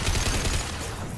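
Rapid gunfire from the sci-fi shooter Mass Effect, a dense burst of overlapping shots filling the whole short moment at steady loudness.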